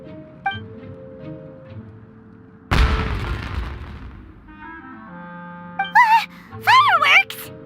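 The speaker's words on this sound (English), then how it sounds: "It sounded like fireworks." Fireworks from Genshin Impact burst with one loud sudden boom that decays into crackling rumble, followed by game music and short animated character voice exclamations.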